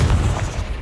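A Confringo spell detonates in the video game Hogwarts Legacy as a short, deep, rumbling boom that fills the whole moment.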